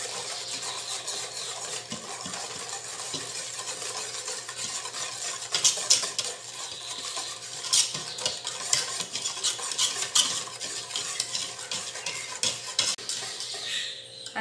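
Batter for a Venezuelan bread cake being whisked by hand in a bowl, a busy stream of rapid clinking and swishing strokes that grows louder and more rhythmic partway through, close and without speech.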